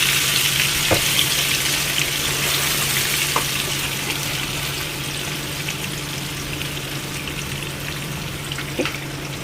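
Pomfret fish fries in hot oil in a home kitchen, a steady bubbling sizzle with a low hum underneath and a few sharp pops and crackles scattered through it, close and continuous without any talking.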